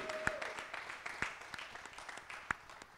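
Scattered, fairly faint applause from spectators greets a para shooter at a world 50m rifle prone competition, with a few distinct individual claps over a thin crowd patter.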